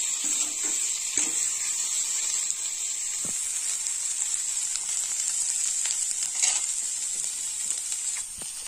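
An egg frying in a pan with bitter flowers gives off a steady, close, bright sizzle that holds for the whole stretch, with a few faint clicks and stirs and no talking.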